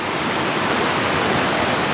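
A waterfall near Ushuaia, Argentina: a constant, dense rush of falling water fills the space, steady and loud without any pauses or voices.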